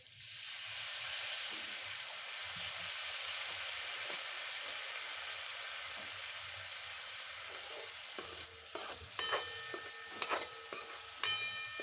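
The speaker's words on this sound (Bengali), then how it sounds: "সামান্য একটু জল দিচ্ছি" A little water poured into a pan of frying boiled eggs, a sustained steady hiss that turns into sharper crackling spits and stirring clatters toward the end.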